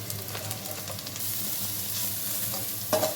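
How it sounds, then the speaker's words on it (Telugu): Onions, green chilies and curry leaves fry in hot oil, giving a dense, continuous close-up sizzle with a few faint clinks of stirring. "పచ్చిమిర్చి, ఆనియన్స్, కరివేపాకు ఆయిల్లో ఫ్రై అవ్వాలి."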